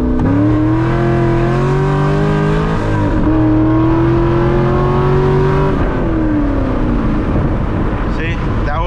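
A 500HP C6 Corvette accelerates hard from a 40 mph roll, its loud engine note climbing through one gear, dipping at a shift and rising again, close and dominant throughout.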